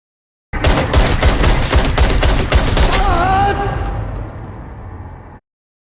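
Gunfire from the Daredevil TV series: a dense, loud burst of rapid automatic shots lasting a few seconds, followed by ringing metallic clinks of falling shell casings that fade out.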